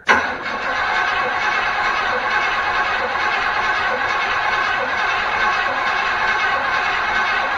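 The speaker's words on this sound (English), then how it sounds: "we'll have to crank it for a little bit before we get fuel up to the pump and the carburetor and everything" A Pontiac Grandville engine is cranked with a carburetor and no fuel reaching it yet, a loud, steady whirring drone that starts abruptly and carries on evenly without catching, with no talk over it.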